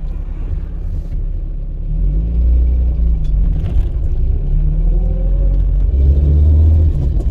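A car drives along the road, its engine giving a steady low rumble with slight rises in pitch, continuous and close throughout with no talking.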